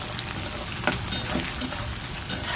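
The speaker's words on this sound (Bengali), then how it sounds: "পেঁয়াজটাকে লাল লাল করে ভেজে নেওয়া হবে।" Onions frying in a pan until reddish-brown, giving a steady close sizzle with a few brief stirring scrapes over about three seconds, no talk.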